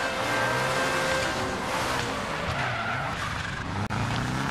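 Group A Subaru Impreza rally car from 1995 skidding on a German forest stage in Dirt Rally, loud continuous engine roar and tire scrub with sliding noise throughout, no talk.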